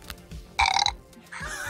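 A short electronic burp from a Furby Furblets mini plush toy, sounding once mid-clip amid low handling noises, followed by a brief buzzy tone.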